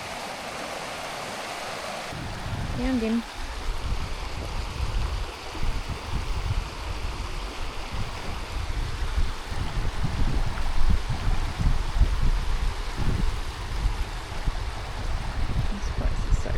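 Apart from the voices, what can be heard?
flowing stream water at Falls Creek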